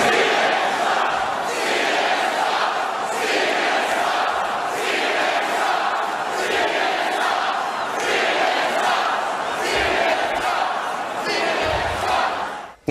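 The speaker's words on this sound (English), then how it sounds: "crowds at the Trump rally, like we saw last night, hey, Don, hey, Jeff Zucker, they were chanting at you." A large crowd at a Trump rally chants in rhythmic, repeated waves aimed at CNN, loud and close with steady pulsing cries throughout and no separate talk.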